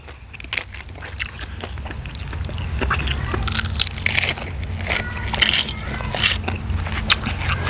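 Crunchy giant shellfish chewed close up, a run of dry crackling bites that grows louder and denser, with a low background rumble.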